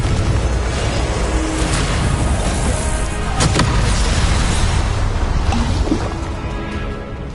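Continuous loud blasts and crackling magical explosions from Confringo spell combat in Hogwarts Legacy on PS4, a dense unbroken roar with sharper impacts rising out of it.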